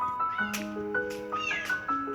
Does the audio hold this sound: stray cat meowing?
yes